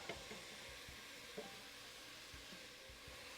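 Onions sizzle and fry in a pan for chili, a steady soft hiss with faint stirring scrapes and light clinks, no talking.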